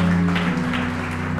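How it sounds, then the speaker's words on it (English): Dense congregation clapping fills a church miracle service, steady and continuous, with a sustained musical drone humming underneath. "Clap again for Jesus."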